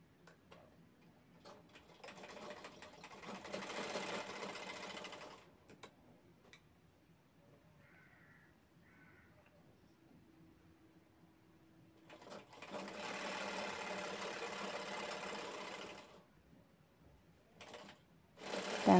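Sewing machine stitching an 11 by 3 fabric piece onto a bag, two clear runs of fast steady whirring clatter, each a few seconds long, separated by quiet handling clicks and a short final burst.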